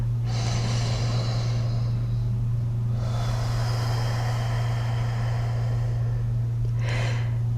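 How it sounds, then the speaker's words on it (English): Slow, deep breaths drawn in and let out during a guided meditation, soft and close over a steady low hum, with a longer exhale at the start and a quick sharp breath near the end. "Now, take a breath."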